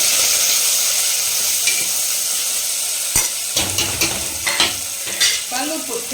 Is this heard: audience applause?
no